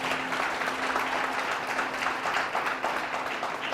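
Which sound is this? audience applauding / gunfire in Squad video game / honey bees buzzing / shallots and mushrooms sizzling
audience applauding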